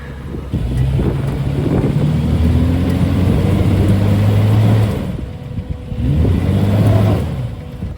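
Jeep Cherokee off-road build climbing rocks, its engine revving loud and close in two sustained surges with a short easing between them, wind buffeting the microphone.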